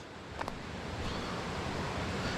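A rugged Australian trout river runs with a steady, broad rushing wash close by, constant and unbroken throughout, with no voices.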